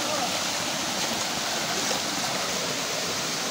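A forest stream flows through the middle of a creek near a waterfall in Brgy. Assumption, Koronadal City, giving a steady, loud, close rush of water that fills the whole stretch without pause.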